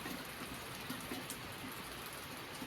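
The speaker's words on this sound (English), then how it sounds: "Oh boy, it's raining again." Steady rain falls around a truck parked outdoors, a soft continuous hiss with scattered drop patters at an even level and no voices.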